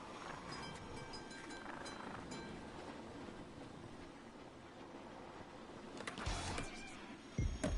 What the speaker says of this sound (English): The train will run you over if you're not careful.